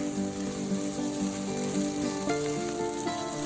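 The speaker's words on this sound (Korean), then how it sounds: "만들어 놓은 소스를 넣고 후춧가루를 뿌린 후 볶아줍니다." Steady, close sizzling of onions stir-frying with sauce and pepper in a hot pan, with faint stirring sounds rising briefly partway through.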